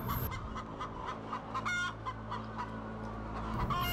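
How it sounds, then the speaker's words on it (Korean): Free-range chickens on a hillside pasture cluck repeatedly in short, uneven bursts close by, several birds overlapping over a low steady background hum. "닭들이 이제 제가 나가니까 나가지 말라고 잡는 듯이 따라오고 있습니다."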